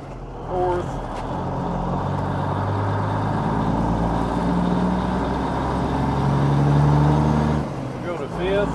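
Truck engine with a 15-speed transmission pulling in low gear and shifting up through second, third and fourth, a steady loud drone with rising and falling pitch between shifts.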